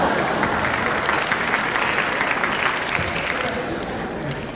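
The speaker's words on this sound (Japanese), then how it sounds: "拍手ありがとうございます。" Sustained applause from a lecture audience at a talk on big band jazz history, a dense, even clatter of many hands clapping for several seconds and slowly easing toward the end.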